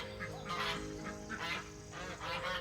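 Geese honk repeatedly in a cluster at breakfast time on a pool deck, overlapping calls in uneven bursts over a constant background hum, moderately close with no talk.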